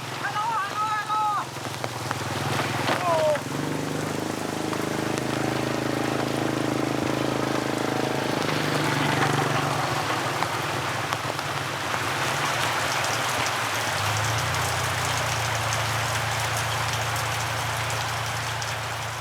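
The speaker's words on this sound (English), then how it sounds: "The torrential rain transforms the tracks into slimy," Torrential monsoon rain falls on a mountain village in Vietnam, a broad steady wash of drops with low rumbling undertones and occasional brief sounds over the top, continuing for the whole stretch.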